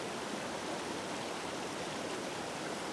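Steady broadband rush of a river flowing over a shallow crossing, the water now low after an earlier flood, continuous and close with no voices.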